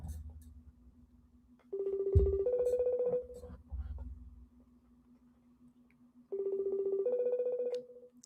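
A phone ringback tone sounds twice, each a steady electronic purr of about one and a half seconds, separated by quiet, with faint low hum throughout.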